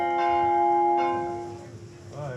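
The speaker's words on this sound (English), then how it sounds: "When lunch is ready, these bells will ring." Lunch bells ring out on uninhabited Klein Curaçao island, two clear metallic strikes about a second apart with long ringing tones that fade, and a faint voice at the very end.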